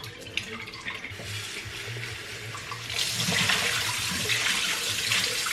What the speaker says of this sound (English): get some water in the jar, give them a slush, rinse the water out just a couple of times